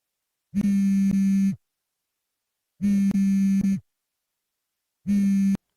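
A phone call goes unanswered in a drama scene, with three long, loud electronic tones separated by silent gaps, each tone holding steady.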